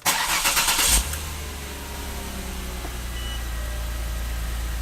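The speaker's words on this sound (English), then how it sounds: "I do have to start the engine in order to read codes in this car." A Jaguar car with a suspected transmission fault is started: a short cranking burst of about a second catches into a steady low idle that continues close and even.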